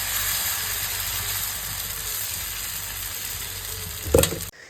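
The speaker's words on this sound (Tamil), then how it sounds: "இந்த விறகு அடுப்பில் இப்படி தோசை ஊற்றும் போது ஒரு சவுண்டு வரும் பார்த்துக்கோங்க" Egg dosa batter sizzles and hisses steadily on a griddle over a wood-fired stove. Near the end a brief louder crackle and scrape bursts out before the sound cuts off.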